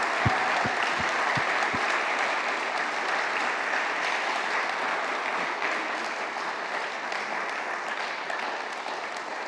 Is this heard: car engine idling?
no